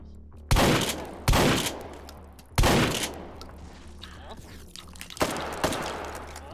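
Gunfire in the VR shooter Hot Dogs, Horseshoes & Hand Grenades, with about five sharp, loud shots spaced irregularly and each trailing a short echo over a low background hum.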